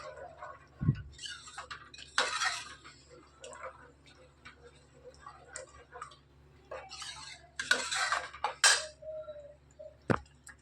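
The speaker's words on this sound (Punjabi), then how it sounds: "ਬਸ ਕੜਛੀ ਨਾਲ ਤੁਸੀਂ ਇਹਨੂੰ ਤੇਜ਼ ਤੇਜ਼ ਹਿਲਾਉਂਦੇ ਰਹੋ" A ladle stirs milk with yogurt in a pot while making homemade paneer, giving scattered light clinks and taps against the metal in an irregular rhythm, with louder knocks now and then over a quiet kitchen background.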